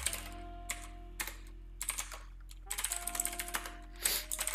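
Computer keyboard typing in bursts of rapid clicks with short pauses between, close and clear over a steady low hum, with no talking.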